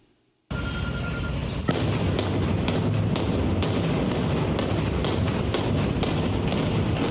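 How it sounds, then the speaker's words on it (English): A loud, continuous roar of explosions demolishing a house, with crackling debris and sharp bangs repeating roughly every half second over a dense rumble. "Thursday's explosions leveled the home of Sana Shalabi"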